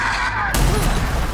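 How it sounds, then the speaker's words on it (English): A loud explosion in the video game Rage 2 bursts in about halfway through and then rumbles on with a dense, sustained roar over steady game noise. "Damn, that explosion's serious."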